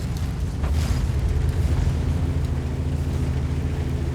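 A tank blowing up in the game World of Tanks, heard as a dense, sustained low-frequency rumble that holds steady across the whole stretch, with a brief brighter crackle near the start and no talk.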